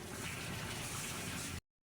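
Water is poured into a pot of gizzard and liver curry with potatoes, a brief, close, steady gush that ends abruptly.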